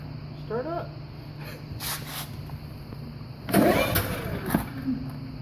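A Champion 3100 inverter generator is fired up for the first time. A few faint attempts come before the engine catches about two-thirds of the way in and runs louder, with people talking nearby.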